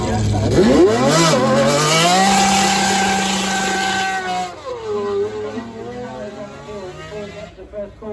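A modified car engine revs hard, its pitch sweeping up and holding at a high, loud drone before dropping and burbling back down near the end.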